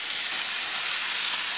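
Washed rice sautéing in a pot with broth, giving a steady, even sizzling hiss that stays moderately loud and unbroken, with no talk.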